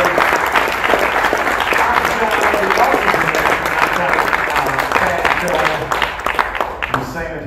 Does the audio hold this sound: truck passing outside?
no